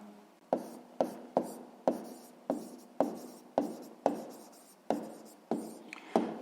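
A pen writes out the answer to a sixth-grade math exercise, producing a steady run of about a dozen close, crisp scratchy strokes, each a sharp tap trailing into a brief scrape.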